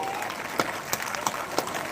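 Audience applause at a mushaira poetry recital, a dense crowd clapping with a few sharper individual claps standing out over a steady wash, continuous for a couple of seconds.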